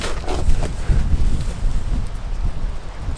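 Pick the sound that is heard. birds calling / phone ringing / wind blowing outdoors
wind blowing outdoors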